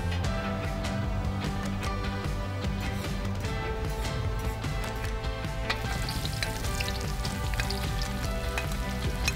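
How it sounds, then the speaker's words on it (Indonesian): Martabak batter frying in a hot pan gives a loud, steady sizzle that runs the whole time, close up, with faint scrapes and crackles on top. "panaskan adonan di penggorengan. Lalu tambahkan isi martabaknya."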